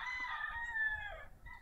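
A white Kelso gamecock rooster gives one full crow, clear and moderately close, on a gamefarm.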